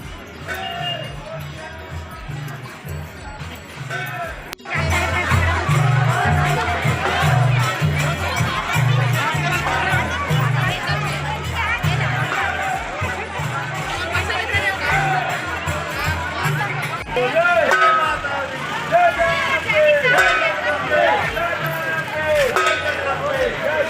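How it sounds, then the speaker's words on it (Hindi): A dense crowd at a goddess idol immersion procession beside a pond makes a steady, loud wash of overlapping chatter and shouts, with thumping rhythmic beats underneath throughout. "कितना भीड़ है बेटू"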